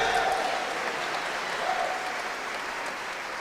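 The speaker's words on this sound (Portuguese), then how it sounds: "Pode aplaudir, aleluia." Church congregation applauding during a sermon, a steady, dense wash of clapping that holds at even strength for the whole stretch, with no clear speech over it.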